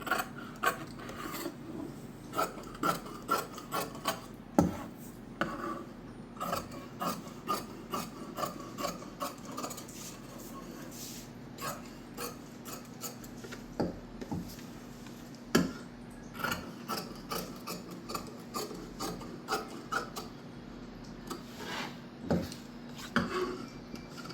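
Scissors cut through blouse fabric in a steady run of small snipping clicks and soft rasping strokes, close and quiet over a low constant hum.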